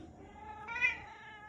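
A cat meows once, a short clear mew rising in the middle of the clip, close and alone against a quiet background.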